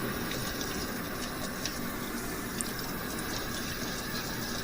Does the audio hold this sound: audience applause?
no